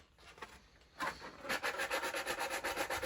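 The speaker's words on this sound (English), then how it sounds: "once you're done sanding, you now have a finished chest piece" Close, rhythmic rasping strokes of sanding against the hard edge of a plastic stormtrooper costume chest piece, starting tentatively then settling into a fast, steady back-and-forth scrub.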